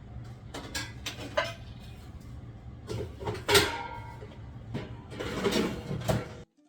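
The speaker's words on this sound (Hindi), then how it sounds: "ये जो बर्तन धुले हुए हैं ये खाली करना, और जो नाश्ते के और लंच के बर्तन इकट्ठे हो जाते हैं उनको धोना" Dishes being unloaded and handled in a home kitchen, with repeated clinks and clatters of plates and utensils over a steady background hum, close and moderately loud.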